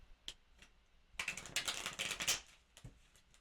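Rapid, crisp riffling of tarot cards on a table, a quick flurry of papery taps after a few isolated clicks, close and fairly quiet.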